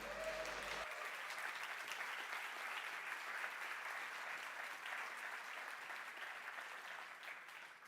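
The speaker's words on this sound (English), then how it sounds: "Very, very well-deserved applause." Sustained applause from a large audience at the Spiel des Jahres 2025 award ceremony, a dense steady patter of many hands clapping that carries on at even loudness throughout.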